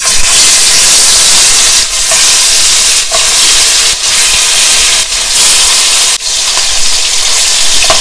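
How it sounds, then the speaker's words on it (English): Oxtail pieces sear in hot oil in a pot over medium-high heat, giving a loud, steady sizzle and hiss that runs throughout, broken by a few brief dips as the meat shifts. "I add some oil to the pot, and I'm going to add my oxtail"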